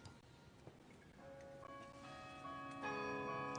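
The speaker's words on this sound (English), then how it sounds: "we hear the famous City Hall bells begin to chime" Distant city hall bells begin chiming at the 2025 Nobel Peace Prize award ceremony, their ringing tones building and layering gradually over a soft, steady background hush.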